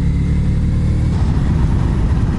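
Two motorcycles pass on Doshi Road, a mountain route in Japan in winter, their mid-pitched engines rumbling loud and continuous over heavy wind noise from a riding motorcycle.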